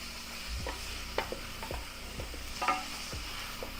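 Ingredients for Filipino lumpia are stirred in a hot pan, a soft steady sizzle broken by several distinct scraping strokes of the utensil at an irregular rhythm, close and fairly quiet, with no talking.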